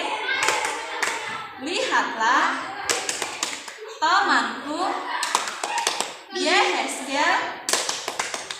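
A classroom group of children claps hands in quick rhythmic pairs while chanting together in a lively, close cheer, the sharp claps punctuating their voices.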